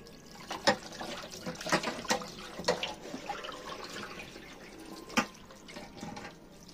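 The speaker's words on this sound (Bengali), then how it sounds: "এই খাসির মাংসটা এবারে কিন্তু খুব ভালো করে ধুয়ে নিচ্ছে" Goat meat being washed in water, with intermittent splashes, drips and sloshing close by at moderate volume, and no talking.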